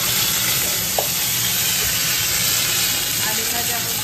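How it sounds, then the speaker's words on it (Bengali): Potatoes fry in a pan for a home-cooked Bengali breakfast, giving a steady loud sizzle and hiss that carries through without a break, with no talking and a faint clink partway through. "আলু ভাজা হচ্ছে"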